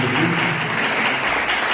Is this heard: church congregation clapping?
yes